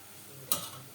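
Pasta sauce being stirred in the same pot the onion was cooked in: one soft scrape of a spoon against the pot over a faint background hiss, brief and quiet with no talking.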